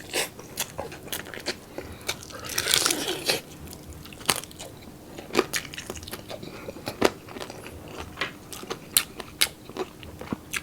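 Loud, close crunching bites and chewing of crispy lechon kawali eaten with pares at a Filipino mukbang, a steady run of sharp crackly crunches across the whole stretch with no talking.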